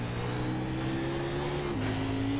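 A race car at Bristol in iRacing holds a steady engine drone at pit speed on pit road, a close, even tone that steps down slightly near the end.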